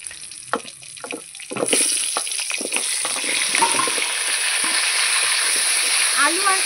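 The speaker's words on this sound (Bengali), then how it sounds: "এবার এই তেলে আলুগুলো ভেজে নেব।" Potatoes frying in hot oil in a home kitchen while cooking a chicken curry with ground spices, a steady loud sizzle with scattered crackles that grows louder after the pieces go in, with clinks of a utensil against the pan.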